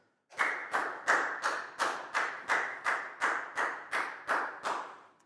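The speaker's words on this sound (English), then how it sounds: "High five and a big round of applause for Pat, please, guys." A Year 4 maths class claps for a pupil, about ten evenly spaced loud claps in a steady rhythm, each ending with a short room echo.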